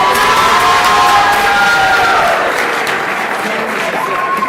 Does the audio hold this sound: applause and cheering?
yes